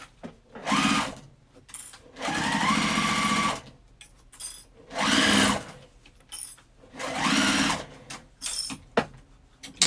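Sewing machine stitching a sling bag, several loud bursts of rapid mechanical whirring a second or two long, separated by short pauses, with fabric handling between runs.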